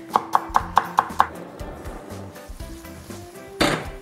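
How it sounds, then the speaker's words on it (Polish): A knife finely dices shallot on a cutting board: six crisp, evenly spaced chops ring out close and clear, then fainter clatter follows. "Biorę deskę, pokroję szalotkę, drobną kostkę"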